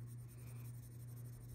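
A wax-based colored pencil scratches softly across paper in quick, faint strokes during coloring, a quiet continuous scribble over a low steady background hum.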